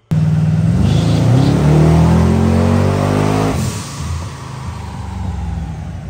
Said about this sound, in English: You see the car on the dyno